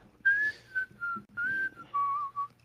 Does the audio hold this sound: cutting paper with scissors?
no